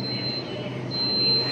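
An underground metro train on Mumbai's Aqua Line 3 hums and rumbles steadily with a faint high wheel squeal, fairly quiet and continuous, with no talk.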